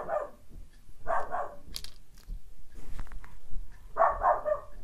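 Dogs barking upstairs, muffled through the ceiling: three clusters of repeated barks at moderate distance, spaced a second or more apart, with quiet indoor noise between.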